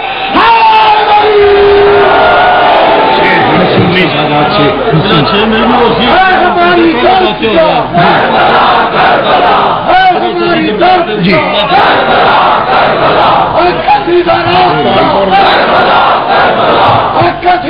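Large crowd at a Shia religious rally in Multan chanting slogans in loud unison, a dense continuous roar of many voices throughout.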